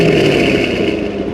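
A Chevrolet C6 Corvette with a Corsa exhaust revving up close, a loud, continuous throaty engine note held steady through a brief burst.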